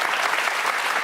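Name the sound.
audience applause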